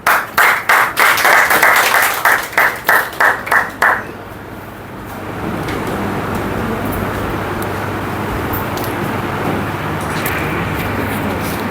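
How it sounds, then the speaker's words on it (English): Applause for the girls' section of a pronunciation and accent class, a run of loud, rhythmic, close clapping that fades out after about four seconds into steady room and traffic noise. "A big round of applause for everybody in the girls section,"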